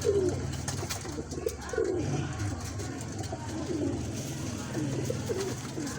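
Paired pigeons in a breeder's loft near Bhara Kahu, Islamabad, coo in repeated low rolling phrases under a steady rustling background, close and fairly loud.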